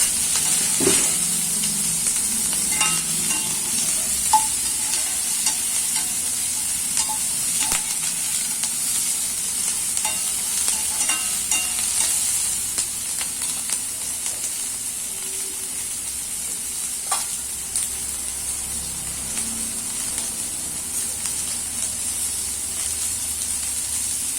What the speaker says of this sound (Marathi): आता आपण हे सगळं मिक्स करून घ्यायचे.